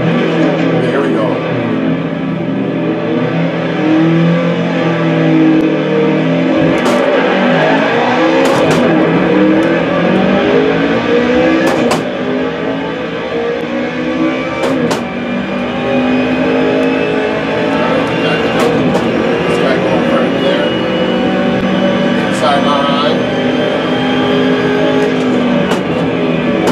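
A BMW M3 Group A race car in the racing game Assetto Corsa at Mugello, its engine revving loud and continuous with rising and falling gear-shift sweeps, while someone talks over it.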